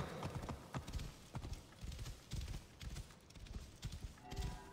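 Horse hooves clip-clopping steadily on desert ground while riding in Assassin's Creed Origins, a close, even rhythmic gait under a faint ambient game bed.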